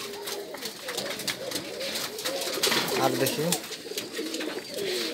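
Pigeons coo at a local pigeon farm of native birds, repeated throaty calls close by, with a person speaking briefly over them.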